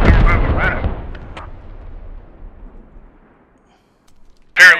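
Incoming artillery rounds exploding in the Squad video game: a heavy blast opens with a booming rumble that decays over a few seconds, followed by a second sharp detonation near the end.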